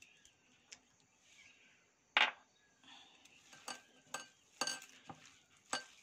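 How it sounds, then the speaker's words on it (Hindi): Mashed potato being mixed into soaked sabudana in a bowl with a spoon: quiet, scattered clinks and scrapes at an uneven pace, a few sharper knocks standing out against near silence. "अब मैं साबूदाना में ये जो आलू मैश किए हुए हैं इसको मिक्स करूँगी"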